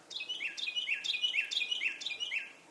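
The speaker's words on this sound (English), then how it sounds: "That bird is loving every minute of it." A songbird among the trees of an outdoor bonsai garden gives a quick series of bright, repeated chirps in a steady rhythm, moderately distant over faint background noise.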